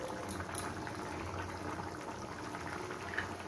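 Bottle gourd chutney simmering and thickening in a pan, a faint steady bubbling with soft pops, quiet and continuous with no speech.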